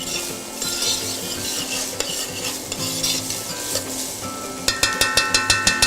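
Onions and bacon sizzle in a pan while a utensil stirs and scrapes, ending in a run of rapid metallic taps against the pan, all close and fairly loud, with no speech.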